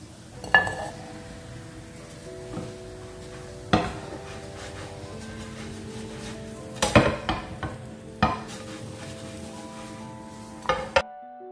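A finger millet and drumstick-leaf adai cooks on a pan, turned from side to side, giving a soft steady sizzle with scattered clinks and scrapes of a spatula against the pan and no talking.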